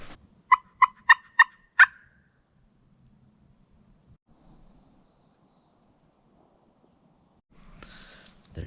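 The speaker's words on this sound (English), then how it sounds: "There's a turkey gobbling in the far distance." A wild turkey gobbles from far off on an Oregon finger ridge, one quick rattling burst of about five sharp notes, followed by long quiet with a faint rustle near the end.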